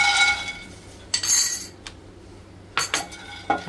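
Dry peanuts spilled from a spoon into an empty pan on a stove rattle in a few sharp, clinking bursts with quiet gaps between them.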